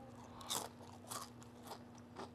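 Crunchy deep-fried chicken skin bitten and chewed close to the mic, with four distinct crisp crunches spaced about half a second apart over a low steady hum.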